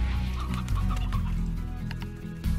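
Chickens cluck repeatedly in the Slime Rancher video game, a close, steady run of short fowl calls over a low droning game soundtrack with no talking.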